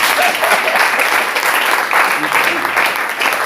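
Applause from a church audience at a French-language sermon, a steady broadband wash of clapping lasting the whole moment at even loudness, with some voices mixed in underneath.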